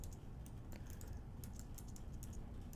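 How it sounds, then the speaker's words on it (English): Steady typing on a computer keyboard while working out an electric field calculation for charged plates, with light irregular key clicks running continuously and fairly quiet throughout. "Good thing I'm typing stuff."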